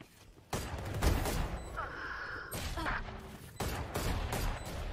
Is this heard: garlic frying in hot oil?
no